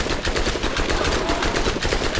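An SMG fires in Borderlands, a loud, continuous rapid-fire stream of evenly spaced shots with no pauses.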